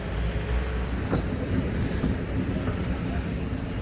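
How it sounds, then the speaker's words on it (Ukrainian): Tram rolling past on a city street in Kryvyi Rih, a steady broadband rumble with rail squeal tones, heard nearby and continuous. "Трамвай."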